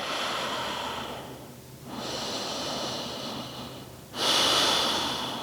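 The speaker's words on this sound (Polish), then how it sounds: "Wdech i wydech przez nos." Slow, audible yoga breaths drawn in and pushed out through the nose, close and soft, in a few long cycles with a stronger exhale at the end.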